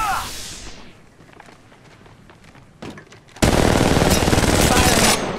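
Gunfire in the mobile game Apex Legends Mobile: a faint burst early on, then a loud sustained stream of rapid automatic shots that runs for about two seconds.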